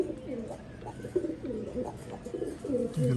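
Large, high-necked show pigeon cooing in repeated soft, throaty phrases, fairly close and steady across the moment, with a faint murmur of background noise and no clear talk.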